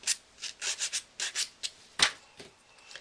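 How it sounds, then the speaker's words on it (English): A sanding block rubs the edges of ribbon leaves in short, quiet, scratchy strokes, about a dozen uneven swipes close up with no voices. "take a sanding block and sand the edges of your leaves"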